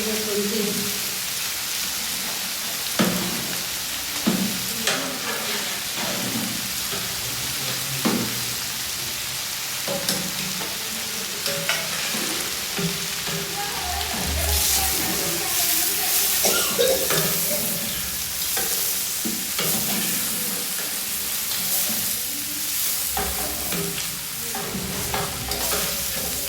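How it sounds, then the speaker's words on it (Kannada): Large batch of garlic and ginger, about half a kilo each, frying in oil for a village-style mutton feast, a steady close sizzle broken by repeated stirring knocks and scrapes of a ladle. "ಇವೆಲ್ಲ ಹಾಕಿ ಚೆನ್ನಾಗಿ ಫ್ರೈ ಮಾಡ್ಕೊಳ್ಳಿ."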